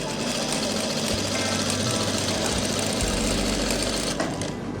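Sewing machine stitching kurti fabric panels together, a loud, continuous whirring hum at close range, steady throughout with a slight change in pitch near the end and no talking.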